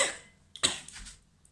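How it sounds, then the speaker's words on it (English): A single short cough, close by, followed by a brief pause and a faint second burst at the end. "Sorry for the cough."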